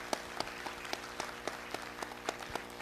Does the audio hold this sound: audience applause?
yes